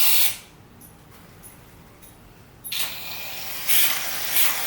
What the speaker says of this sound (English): you can spray your shaving cream in.